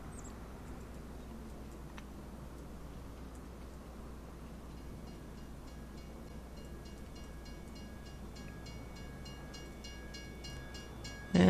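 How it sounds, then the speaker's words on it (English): Train rolls past in the Farming Simulator 25 video game, a low steady rumble with faint rhythmic rail clatter building toward the end, heard at moderate distance without talk. "There's that train."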